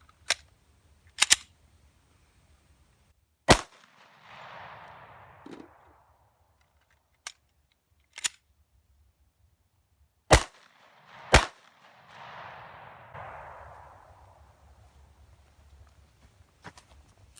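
A Smith & Wesson handgun fires a string of single shots from a magazine with uneven gaps between them. Each report is sharp and loud, and a softer rustling handling noise follows several of the shots.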